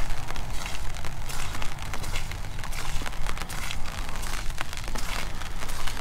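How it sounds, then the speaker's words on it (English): Steady rain falls outdoors, a dense, even hiss of drops on surfaces with scattered crackly patters, continuous and fairly close with no talking. "So enjoy the sound of the rain"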